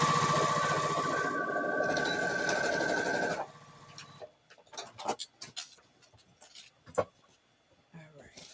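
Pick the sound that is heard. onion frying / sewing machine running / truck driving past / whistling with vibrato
sewing machine running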